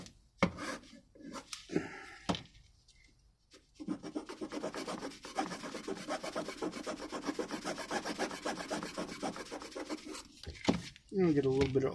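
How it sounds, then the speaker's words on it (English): A file rasps over a handmade wooden fishing bait in quick, close scraping strokes, with a few knocks and handling noises at the start and a voice briefly heard. "Hit it with the file."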